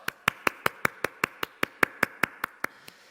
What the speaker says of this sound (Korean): 우리 힘차게 박수 한번 같이 칠까요?